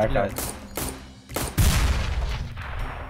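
Rapid bursts of gunfire in Garry's Mod, shots striking barrels in a cluster of sharp cracks and booms over about three seconds, loud and close, with some talk mixed in.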